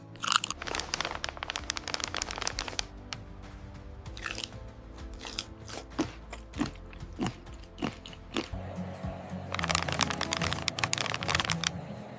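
Crunchy dried green kiwi slices being bitten and chewed close up, with a steady run of sharp, crisp crunches and brittle snaps over about twelve seconds and no talking.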